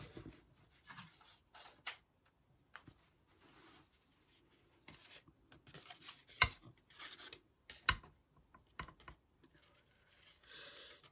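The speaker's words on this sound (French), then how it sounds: "Je prends mon grand ciseau." Large scissors cut through paper artist trading cards, making scattered soft snips and rustling clicks with brief pauses, quiet and close.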